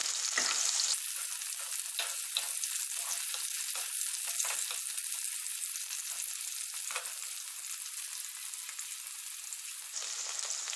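Tomato sizzling in a hot pan for potol posto, a pointed gourd and poppy seed dish, giving a dense, steady crackling hiss that runs unbroken for about ten seconds with no voices.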